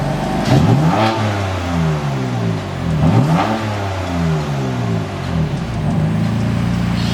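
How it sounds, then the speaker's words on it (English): A stock BMW F80 M3 with stock exhaust revs repeatedly, loud and close, its engine note rising and falling in several sweeping bursts with no talking. "But I'll show you guys like revving it."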